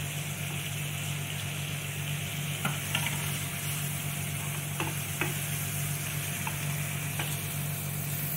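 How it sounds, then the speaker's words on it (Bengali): Ginger garlic paste fries in hot oil for a shrimp malai curry, giving a steady soft sizzle with a few sharp scrapes and clicks of a stirring spoon against the pan, no voices. "একটু ভালো করে ভেজে নিতে হবে।"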